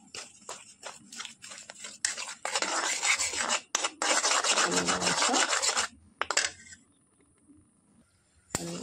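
A spoon scrapes and stirs a thick jaggery chocolate mixture with dried jujube powder in a pan over a very low flame, in rasping bursts broken by short pauses, close up with no talking.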